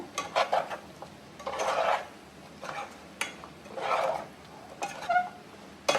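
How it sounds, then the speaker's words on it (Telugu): Spicy garlic egg curry stirred in a pan, a spoon scraping and clinking against the metal in irregular bursts, close and fairly quiet, with short pauses between strokes. "బాగా తిప్పుతూ కలుపుకోవాలి"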